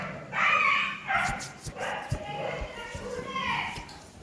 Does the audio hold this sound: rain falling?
no